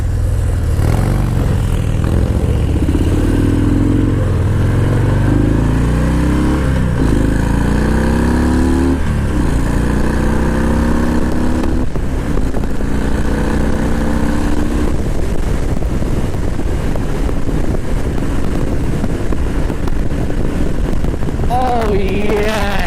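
A Harley-Davidson FXDR 114 motorcycle engine revs and accelerates through several rising gear pulls on a test ride, loud and close with wind rush, then eases off into a steady drone.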